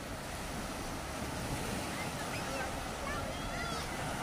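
Waves washing along a seashore, a constant broadband roar of surf with wind noise on the microphone, steady and moderately loud throughout with no distinct breaks.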